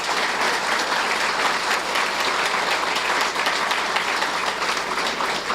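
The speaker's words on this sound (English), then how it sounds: "And I would like some applause." A lecture audience at Colorado Christian University breaks into sustained, dense applause. The clapping holds loud and even for several seconds with no voices above it.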